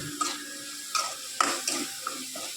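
Ginger, garlic, cumin and onion masala frying in a pan, soft sizzling punctuated by four or five distinct scraping stirs of a spoon against the vessel.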